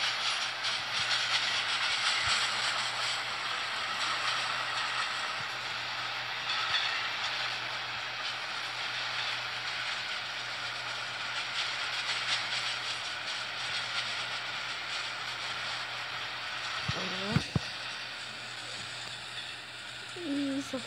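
An Amtrak P42 diesel locomotive runs in a train simulator game with a steady rumbling rail drone and hiss, and a brief squeal and clunk near the end.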